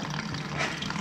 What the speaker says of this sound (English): Rinse that mud out.